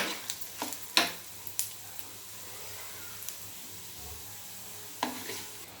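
Spices frying in a pan for Indian ginger chutney, a soft steady sizzle under occasional sharp clinks and scrapes of a stirring spoon, close by with no talk.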